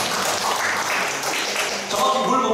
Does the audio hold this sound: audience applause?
yes